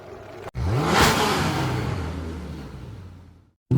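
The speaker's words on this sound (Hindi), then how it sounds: "और एक्सीलेटर दबा दिया" A car engine revs up and accelerates, a loud close rising roar that peaks early and then settles into a steady drone before cutting off abruptly.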